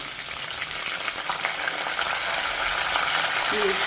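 Green chillies and curry leaves fry in hot oil in a pan for sabudana upma, a steady close sizzle and crackle running throughout with no talking.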